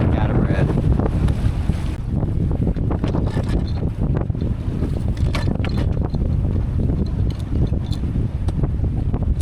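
Strong, steady wind roars over the deck and rigging of a sailboat at anchor in Fiji, with gusty buffeting across the microphone and water sloshing beneath, continuous and loud throughout.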